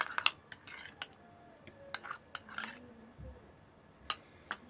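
A utensil clinks and scrapes against a bowl while stirring a homemade hair mask, producing light, irregular taps and clicks with quiet pauses between them.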